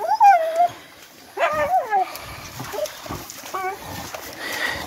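Pig hunting dogs in New Zealand at night on private land, barking in loud bursts with yips and whimpers, close by, with brief human voice in between.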